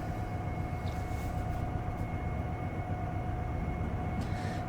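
Train Simulator locomotive, a Canadian GEVO on the Montana Hi-Line, running at about 70 with a steady low rumble and constant hum, continuous and close throughout.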